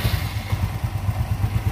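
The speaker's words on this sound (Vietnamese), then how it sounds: "Giờ tôi tiến hành nổ máy này." Yamaha motorcycle engine just started and idling close by, a steady low rhythmic putter with light mechanical clatter, no voices.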